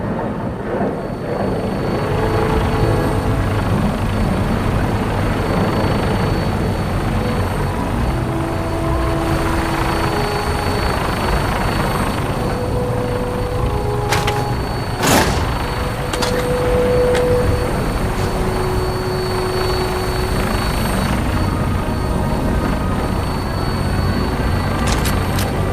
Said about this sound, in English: we have a vertibird on standby, fully armed and ready to depart